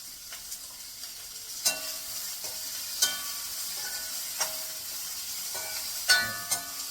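Ingredients frying in a pan give off a steady bright sizzle and hiss, broken by several sharp spits and pops, close and continuous, with no voices.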